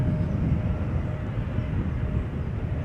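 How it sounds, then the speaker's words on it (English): A KLM Cityhopper Embraer 190 arriving at Amsterdam makes a steady, distant jet roar, a broad low rumble holding level for a few seconds without talk. "we first see this Embraer 190 KLM City Hopper flight 1822 arriving from Berlin"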